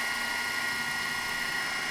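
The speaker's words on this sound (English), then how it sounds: "now drill the holes for the wire that goes through to the back" A power drill bores a 1/4 inch hole in an acrylic panel, giving a steady, high, whining motor drone that runs without a break.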